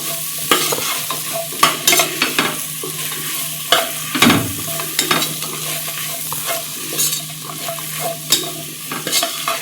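Coriander powder, turmeric and goda masala are stirred into a hot frying pan for Maharashtrian masale bhat, with a soft continuous sizzle broken by irregular scraping and clinking spoon strokes, close up.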